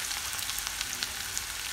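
Chopped onion sizzles in hot oil for a dhaba-style dal tadka tempering with finely cut green chilies, a soft continuous frying hiss with light crackles and pops.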